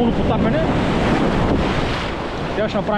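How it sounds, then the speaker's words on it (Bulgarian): Cold Black Sea surf surges and breaks around swimmers near Primorsko in winter, a steady close roar of waves with heavy wind buffeting the microphone throughout. "Ето вече и вълните ни потапят."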